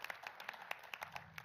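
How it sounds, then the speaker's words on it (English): Faint, scattered hand claps from an audience at a Southern Maryland 250 Liberty and Legacy event, a thin sprinkle of distinct claps rather than a full roar, heard from a distance. "Let's give another round of applause to the great Executive Lucille"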